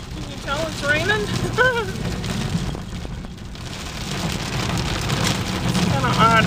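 Rain falling outdoors as a storm comes in, a continuous soft hiss of drops beneath passing traffic rumble, with faint chirping sounds at moments.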